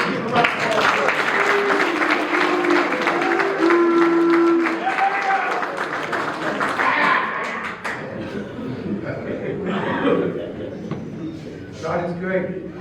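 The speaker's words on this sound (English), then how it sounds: "So let's give him a round of applause." An audience at a football team banquet and ring ceremony breaks into a sustained round of applause, loud dense clapping that fills the room and slowly tapers, with scattered voices and chuckles mixed in.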